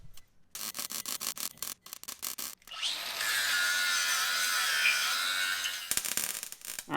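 A power grinder works down a weld on a Caterpillar bulldozer, first in short rhythmic bursts of contact, then in a loud sustained whine of about three seconds before stopping and resuming briefly.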